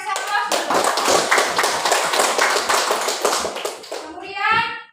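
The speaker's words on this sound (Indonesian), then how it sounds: "Terima kasih, kasih aplaus dulu." A classroom of schoolchildren applauds, a dense burst of many hands clapping that lasts several seconds and then fades, with children's voices coming through near the end.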